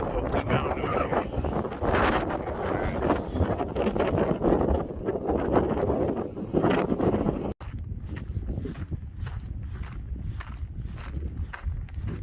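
Steady wind roars across the microphone on a hiking trail in Arizona among red hills, a loud, continuous buffeting rush with footsteps crunching underneath and a brief dip before the gusts resume.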